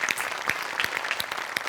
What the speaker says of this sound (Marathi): एकदा त्यांच्यासाठी टाळ्या वाजल्याच पाहिजेत.